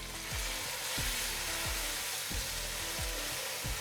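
Tomatoes sizzling in a pan of frying garlic and ginger for moti pulao, a steady hissing fry with repeated rhythmic scraping strokes over a low mechanical hum.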